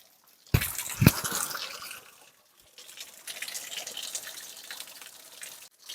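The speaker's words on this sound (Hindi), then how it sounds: "तो आइए हम पहले आपको झरना दिखा देते हैं" Waterfall stream flowing between rocks in a wild forest, a steady rushing wash with a couple of louder splashes early, a brief lull, then the flow resumes at moderate distance.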